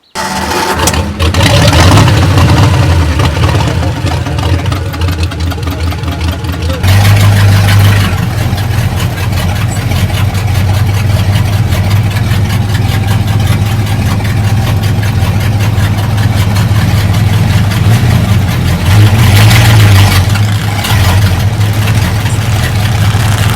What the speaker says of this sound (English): That's a Ford flathead, a 49 twin spinner motor, single spinner motor.